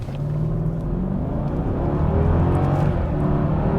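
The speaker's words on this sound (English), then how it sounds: "here is 0 to 60 in sport mode, and no paddle shifting, just letting the trans do its thing" A Mercedes E550 4Matic with a biturbo V8 accelerates hard from a standstill to 60 mph in sport mode, with the automatic transmission shifting by itself. The engine rumble is loud and steady and climbs in pitch, with no voices.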